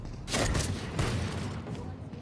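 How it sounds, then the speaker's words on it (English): Bursts of rapid gunfire crackle in a Valorant match, loud and dense, in two main volleys a half-second apart with scattered shots trailing off. "Bro, bullets are literally flying from mid."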